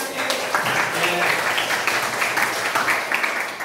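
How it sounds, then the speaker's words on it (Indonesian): Classroom applause for a student group, a steady, moderately loud patter of many hands clapping together for several seconds. "Ya, tepuk tangan untuk kelompok Natsir."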